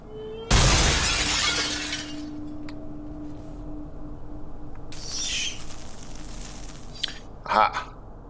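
A fragile glass pane shatters loudly in a video game, a burst of breaking glass that trails off over about a second, followed by faint game ambience, a tinkling scrape and a later brief rustle.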